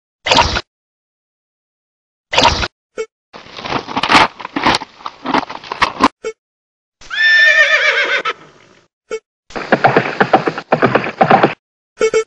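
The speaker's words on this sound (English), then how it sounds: "horse," Horse whinnying in a farm setting, with loud repeated neighs alternating with bursts of rapid clip-clopping hooves, all close and clear with no talking.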